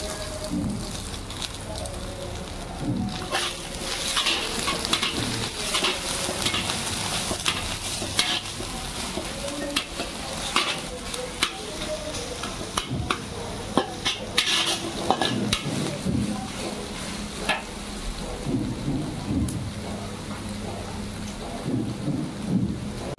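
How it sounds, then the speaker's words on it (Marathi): Onion is stir-fried in a pan for veg Chinese rice, a steady sizzle broken by repeated scraping and clattering of a spatula, with a low murmur of voices underneath at times. "आता आपल्याला कांदा टाकायचा आहे."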